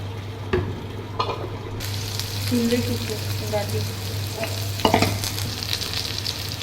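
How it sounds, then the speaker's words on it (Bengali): Okra frying in white oil in a hot kadai, a steady sizzle with occasional stirring clatters and scrapes, close and moderately loud, no talk. "সাদা তেলে আমি ঢ্যাঁড়সটা ভেজে নিচ্ছি।"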